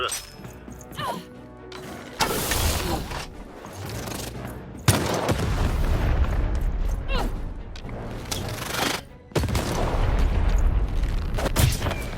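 Repeated heavy cannon booms and blasts in the video game Lost in Random crash out in quick succession, loud and dense, with mechanical clatter between the volleys.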